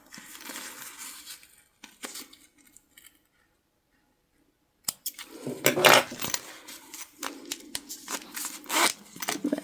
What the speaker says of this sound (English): we'll just kind of chop off those threads, the extras.